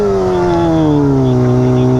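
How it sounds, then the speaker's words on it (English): A vehicle engine revs loudly and steadily during a slow burnout on a street, a strong droning tone that sinks gradually in pitch, heard up close. "Lewis doing the slowest burnout"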